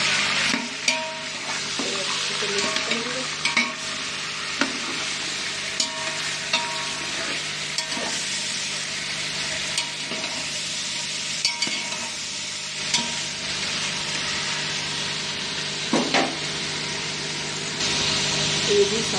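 Chicken biryani with whole garam masala and chicken frying in a pot, with continuous sizzling and a spoon scraping and stirring in scattered clinks, close and steady for nearly twenty seconds.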